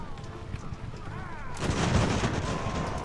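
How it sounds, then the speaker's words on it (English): Cannon fire from a frigate in the naval video game Ultimate Admiral: Age of Sail: someone talks briefly, then a loud, rumbling broadside erupts and rolls on to the end. "There's the cannon shots."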